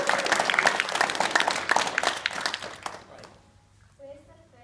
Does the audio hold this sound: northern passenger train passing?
no